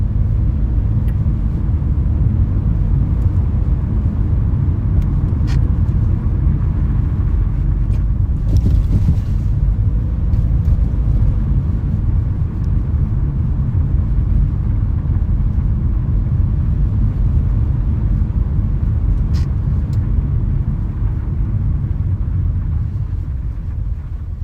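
A car drives through Moscow on a winter Saturday night, a loud steady low engine and road rumble heard from inside the cabin, continuous with a few faint clicks and no talk.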